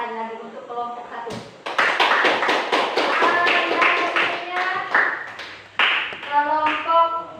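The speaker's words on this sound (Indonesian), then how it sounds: "Tepuk tangan sekali lagi untuk kelompok 1" A classroom of students claps for a group after its presentation, giving a burst of close, sharp hand claps and taps that rises suddenly and carries on with voices heard around it.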